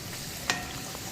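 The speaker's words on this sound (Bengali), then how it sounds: "এটা ভাজা হইতে হইতে এটাও ফুলে উঠবো।" Dal puri fries in hot oil, giving a steady soft sizzle with one brief sharper crackle near the middle as the puri puffs up; no talk.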